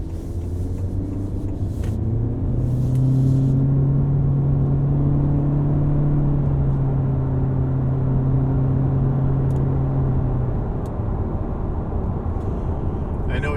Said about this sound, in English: we're going to take it onto the highway for a little bit and really test out the power on the vehicle